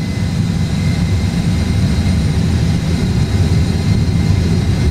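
Airbus A320 jet engines roaring at takeoff thrust in a flight simulator, a loud, continuous, heavy low rumble with a steady hiss and whine, no voices heard.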